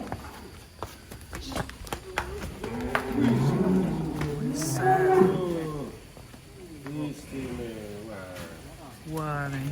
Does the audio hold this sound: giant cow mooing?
yes